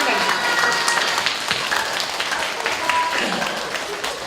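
An audience claps at a live show of imitated nature sounds such as cicadas, a dense, steady patter of hands that runs throughout with a voice talking over it.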